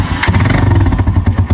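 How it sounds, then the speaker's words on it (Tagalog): A motorcycle engine, just repaired by welding, fires up and runs with a loud, close, rapid pulsing chug that stays steady throughout. "At ito-steer po natin kung aandar pa yung motor."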